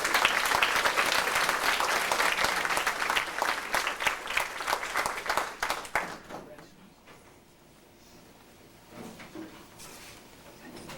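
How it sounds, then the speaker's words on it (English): Guests at a 1996 senior class banquet clap in a loud round of applause that gradually thins and fades out after about six seconds, leaving quiet room sound with scattered taps and faint voices. "Could we have a round of applause?"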